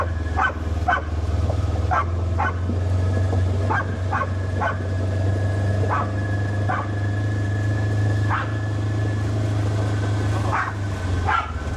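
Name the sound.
dog barking while running back and forth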